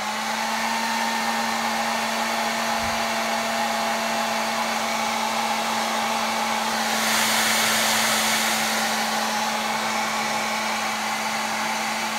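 A hair dryer blowing to warm frozen thawed rats, a loud steady whirring roar with a constant hum tone, running continuously close by with a brief surge in airflow partway through.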